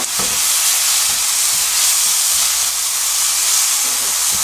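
Minced garlic sizzles in a hot pan for bassak bulgogi made with imported beef, a loud, even, steamy hiss that holds steady throughout without talk.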